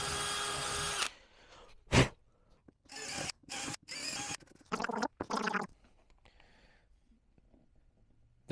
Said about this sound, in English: And then I'm going to drill these out to 5mm.